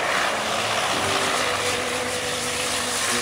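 Aerobatic propeller airplane flying at an air show, a loud continuous engine drone with steady buzzing tone that stays close and unbroken throughout.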